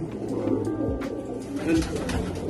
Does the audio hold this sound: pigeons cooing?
yes